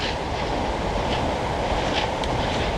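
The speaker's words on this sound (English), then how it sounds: "we've got a HS1 Javelin train coming past" An HS1 Javelin high-speed passenger train rushes past with a steady, dense roar of rolling noise, loud and close throughout, with faint rattling above the rumble.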